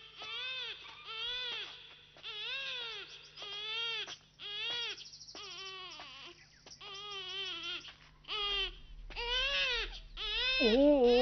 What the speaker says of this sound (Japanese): 人のあまり足を踏み入れないような奥深い山で時々赤ん坊の鳴き声が聞こえることがある